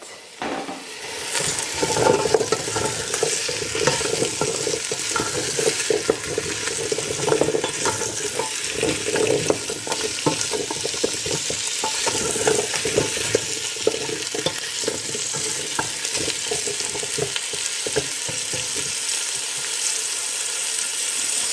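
Carrots cook in a pot for cream of carrot soup. A steady, fairly loud sizzling bubble continues with frequent small clicks and scrapes of a utensil stirring in the pot.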